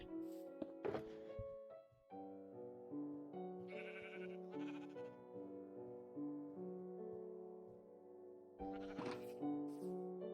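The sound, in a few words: sheep bleating in the video game Minecraft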